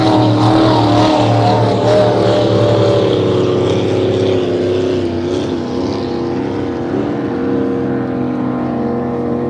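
A powerful Pro Stock hydroplane racing boat engine roars loud and close during a race final, its droning pitch wavering slightly as it runs steadily throughout.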